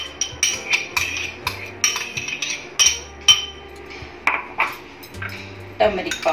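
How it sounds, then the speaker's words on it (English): Chopped onion, maida and a little oil being mixed by hand in a metal bowl, heard as a steady run of close clinks, taps and scraping knocks of utensil against the bowl, with faint low background hum. "Now we have to mix chopped onion,"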